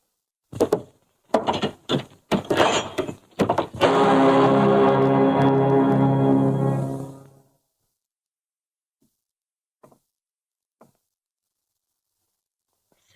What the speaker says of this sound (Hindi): खोल दो दरवाजा।